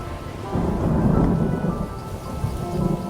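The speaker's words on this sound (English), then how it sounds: "looks like another storm coming" Thunderstorm sound effect from an old-time radio drama: a steady wash of heavy rain with deep rolling thunder rumbling throughout, loud and close, with no voices.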